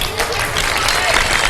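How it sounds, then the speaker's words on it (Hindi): Studio audience applause during a live Ramadan iftar television show, a short dense burst of clapping from a crowd, loud and steady throughout. "बहुत सारी तालियां।"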